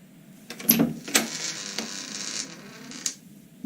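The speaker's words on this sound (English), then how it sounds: "Gordon opened the door of Lord McCoy's room, and they all looked in" A door creaks open with a drawn-out, wavering groan, loud and close, with sharper creaks at the start and a last squeak near the end.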